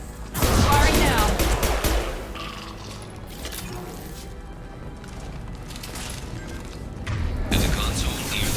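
Weapons fire in Mass Effect 2 during the Archangel mission: a loud opening blast of rapid gunfire trailing into a rumbling battle din, with another burst of shooting near the end, and faint voices underneath.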